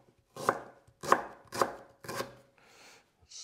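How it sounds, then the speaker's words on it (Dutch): A knife chops a hard, woody fresh root, about a 5 cm piece, into chunks for Indonesian fried chicken: four sharp, evenly spaced cuts on a board, close and clear, then softer handling with no talk. "Die snij ik wel even in stukjes, dat is vrij hard."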